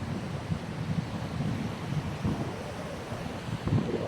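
Large ocean waves wash and rumble against a beach in a continuous, moderately loud surge, mixed with wind noise on the microphone and no talking.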